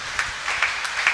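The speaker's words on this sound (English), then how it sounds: "Give the Lord a mighty clap of" Church congregation clapping in praise, a short burst of fairly loud, fast applause with a few sharper individual claps standing out.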